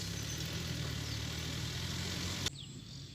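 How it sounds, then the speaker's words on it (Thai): A farm tractor of Yanmar or Kubota make runs in a field with a steady, close, low rumbling engine drone that drops away abruptly near the end, leaving quieter background. "อ่าเดี๋ยวเบิ้งรถไถครับที่นี่นะครับ"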